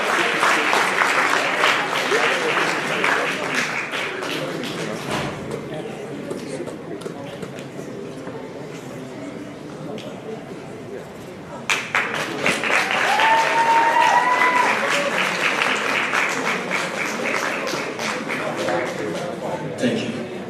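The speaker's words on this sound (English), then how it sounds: "Please clap for her." Sustained audience applause fills a school award ceremony hall, loud and steady throughout, dipping briefly in the middle before swelling again, with a few voices and cheers mixed into the crowd noise.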